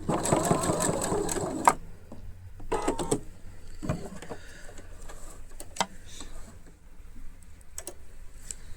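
A sewing machine backstitches on a child's woven-fabric dress, a short burst of fast mechanical stitching up front, then a second brief run and scattered ticks and clicks from the machine.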